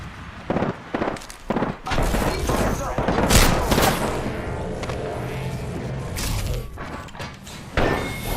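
Rapid gunfire and bursts of shooting in a battle royale video game, loud and dense with thuds and mechanical clicks, sustained over several seconds with brief sharp pops at the start.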